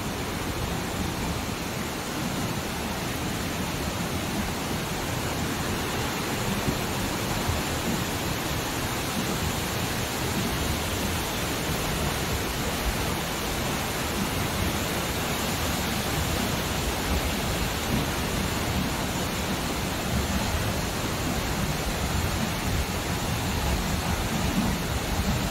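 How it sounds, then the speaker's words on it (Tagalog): Tuasan Falls on Camiguin Island, a steady broadband roar of falling water that holds constant and fairly loud throughout, with no voices. "Ito yung Tuwasan Falls."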